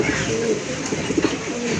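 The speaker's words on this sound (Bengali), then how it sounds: "রেড চেকার রেসার মার্শাল্লাহ বিগ সাইজের কবুতর" Big red checker racer pigeons coo in low, throaty bursts while scuffling with one another, the calls close and fairly loud and repeating irregularly throughout.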